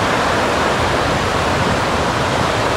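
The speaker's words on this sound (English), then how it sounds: "We've got this wind propelling the sea right behind the waves." Constructive waves break on the beach at Burnham-on-Sea, Somerset, driven by onshore wind, making a loud, unbroken roar of surf and wind noise with no pauses.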